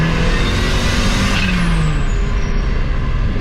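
A turbocharged car accelerates hard in second gear while losing power, a loud, steady engine roar with road and wind noise and no clear rise in pitch.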